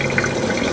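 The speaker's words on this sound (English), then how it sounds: "So this washer has a built-in pump for the drain." A portable washing machine drains through its built-in pump, producing a brief continuous rush of flowing, gurgling water at close range with no speech.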